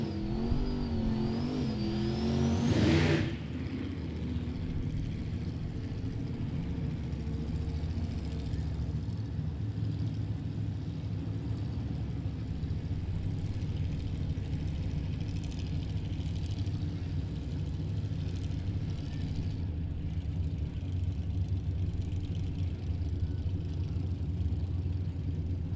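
Turbocharged Chevrolet Nova drag cars at a drag racing event, one engine winding up hard at the start and then a steady, continuous loud roar of engines and crowd ambience lasting throughout, no talk.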